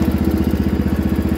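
Wheel Horse 312-8 lawn tractor engine running steadily at about one-third throttle, a loud, close, rhythmic low chug with evenly pulsing beats and no talking.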